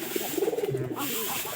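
A pigeon gives a short, close, throaty coo, a quick pulsing burst of low warbling notes lasting about a second.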